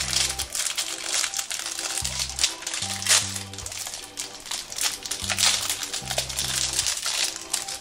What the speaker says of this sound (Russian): давайте откроем первый маленький пакетик